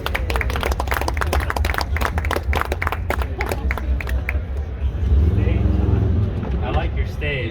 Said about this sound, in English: give a round of applause to my good friend